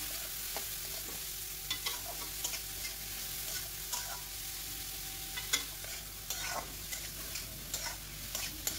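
Grated carrots fry in a pan for carrot halwa, a soft steady sizzle broken by repeated scraping taps of a spoon stirring, close and fairly quiet with no talking.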